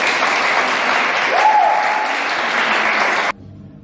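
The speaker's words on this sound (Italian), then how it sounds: "Ok, bel applauso!" Audience applause at a Friulian community society's anniversary celebration, a dense, loud wash of many hands clapping that holds steady for about three seconds and then stops abruptly.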